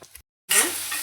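Onions frying in a pan for a Maharashtrian brinjal bharit, a loud close sizzle that bursts in after a brief silence and holds steady, preceded by a couple of quick stirring scrapes.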